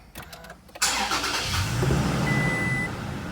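A third-generation Toyota Tacoma truck engine starts: a short starter crank gives way to a sudden catch and a loud, steady idle that settles and holds, heard close from inside the cab.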